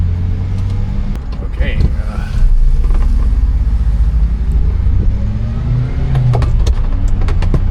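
A car without a rev limiter revs loudly nearby at a busy car meet, its engine roar rising and falling with rumbling low tones while a voice speaks briefly over it.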